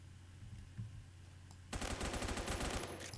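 Rapid automatic gunfire in the first-person shooter Phantom Forces erupts abruptly partway through after a quiet stretch, a dense fast rhythm of close, loud shots continuing to the end.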